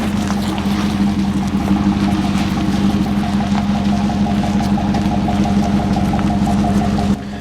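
A deep 6.2-liter V8 engine of a 2013 GMC Sierra Denali pickup truck rumbling steadily at idle, loud and close, with a constant low throb that drops off slightly at the end.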